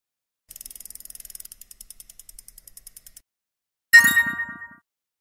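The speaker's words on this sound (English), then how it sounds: "this Wheel of Names is going to spin in 3" An online Wheel of Names spinning: rapid evenly spaced clicks that gradually slow and spread out as the wheel decelerates and stops, followed after a pause by a short bright chime.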